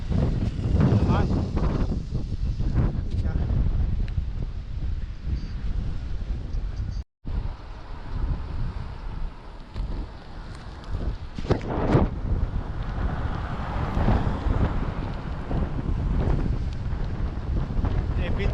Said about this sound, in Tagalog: So, lakas ng hangin.